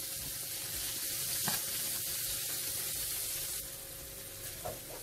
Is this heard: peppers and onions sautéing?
yes